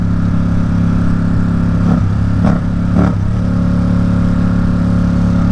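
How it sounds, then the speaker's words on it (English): Ducati Supersport motorcycle with a race exhaust, a loud, close, steady engine drone broken by a few quick, sharp dips and blips like rapid quick-shift gear changes, with no talking. "this is a race exhaust, so I bet it just sounds so good when you're just quick shifting"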